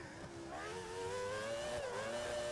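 Screaming F1 racing car engine in the F1 2013 video game, a loud high whine whose pitch climbs and dips as the car accelerates through its gears on the final lap.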